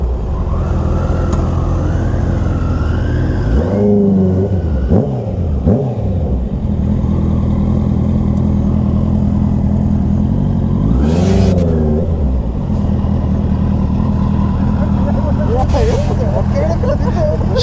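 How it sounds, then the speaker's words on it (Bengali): A superbike motorcycle engine drones steadily during a midnight ride in Toronto, with a few rising revs surging over the constant low hum while people talk nearby. "আমরা একটা জায়গায় যাচ্ছি বাইকে করে"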